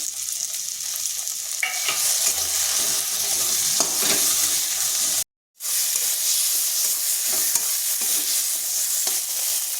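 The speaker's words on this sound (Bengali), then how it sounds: "এরপর এখানে দিয়ে দিচ্ছি ভেজে রাখা পেঁয়াজগুলো।" Fried onions being stirred into mashed flat beans frying in a pan, a steady close sizzle with scraping stir strokes throughout and a brief dropout midway, no talking.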